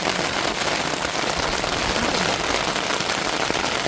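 Heavy rain pours down at a beach along a coastal road in Mullaitivu, a dense, steady hiss of drops filling the whole stretch with no pauses and no voices.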